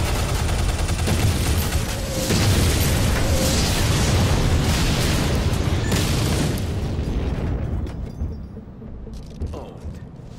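Missiles explode in Shadow Complex, sending out a dense, loud, sustained rumble of booms and bursts that rolls on for several seconds before tapering into quieter scattered pops near the end, with no talking.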